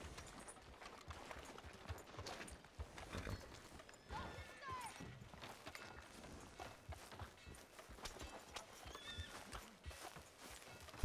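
Horse hooves clip-clop in Red Dead Redemption 2 gameplay, a soft, steady rhythm of light hoofbeats mixed with faint in-game ambience and occasional creaks. It is fairly quiet throughout, with no speech.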